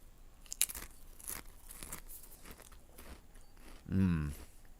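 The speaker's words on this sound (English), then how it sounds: "That's the Pringles Crunch that you can only get from Pringles." Crunchy Pringles potato chips are bitten and chewed, giving several crisp, sharp crunches spread irregularly and close up, before a brief voice near the end.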